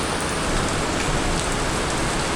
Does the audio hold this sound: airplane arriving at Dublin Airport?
no